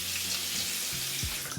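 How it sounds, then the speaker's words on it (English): Tap water runs steadily into a sink, a continuous hiss heard close up, with a few faint knocks in the background. "Pardon the running water."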